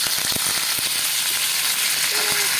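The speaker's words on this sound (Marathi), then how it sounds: "आता आपलं तेल तापलेलं आहे हा कढीपत्ता टाकूया" Curry leaves drop into hot oil in a pan and set off a loud, hissing sizzle that stays constant and close, with a few sharp crackles and pops at the start.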